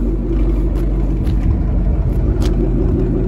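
Ford Mustang 5.0 V8 idling with an aftermarket exhaust, a close, steady deep rumble with slight pulsing and a few faint clicks, no talking.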